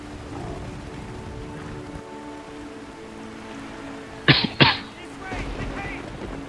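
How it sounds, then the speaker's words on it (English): Two sharp coughs in quick succession, close by, over steady rain pattering on a surface and faint background talk. "I don't know why I'm coughing right now"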